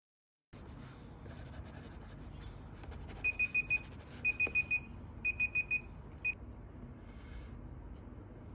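A timer alarm goes off at the end of a drawing session, sounding bursts of four rapid beeps repeated three times, then a single beep, over quiet background rustle of pencil on paper.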